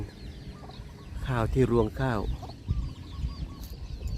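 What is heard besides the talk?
chickens clucking while pecking rice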